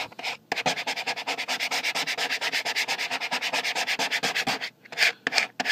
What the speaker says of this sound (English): maybe come at the tape just to make sure it gets a good seal there up against the other piece of tape